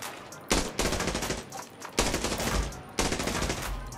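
M4A1 rifle in Arena Breakout firing three separate automatic bursts, each a dense run of loud, close shots separated by short pauses.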